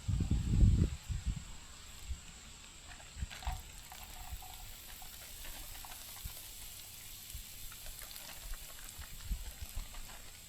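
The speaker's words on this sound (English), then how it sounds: "Here a little sizzling. That's just what we want." Faint crackling sizzle in a pan, soft and continuous, following a short burst of handling noise at the start.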